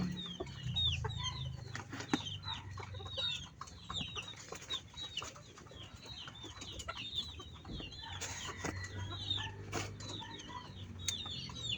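A mother hen clucks among newly hatched chicks, with soft repeated peeping calls and clucks at moderate distance over low background noise, without speech.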